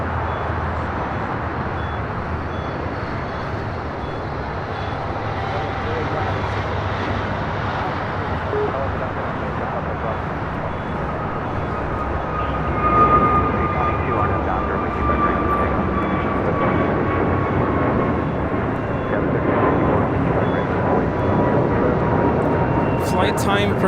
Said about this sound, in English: Seattle Air Queen coming in from Anchorage, flying over directly of us here at Imperial Hill.